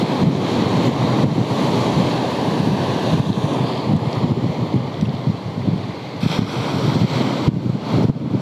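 Ocean waves roll and wash continuously at the Pointe du Médoc under gusty wind buffeting the microphone, a loud, dense rushing roar with no talking.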